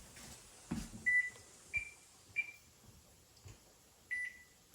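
A kitchen timer being set beeps several times in a quiet kitchen, short clear high beeps spaced irregularly with faint button clicks, no voices.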